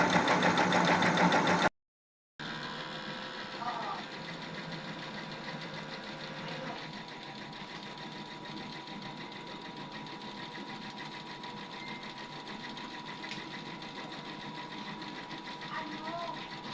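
Epson XP600 printhead in a DTF printer running a head-cleaning cycle, a steady mechanical whir with faint clicks near and under light background noise, briefly cut off near the start.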